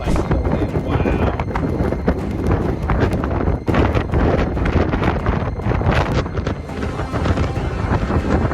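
Strong wind of a whiteout snowstorm in New York City roars steadily and loudly throughout, with constant gusty rumble and buffeting on the microphone and no clear talk.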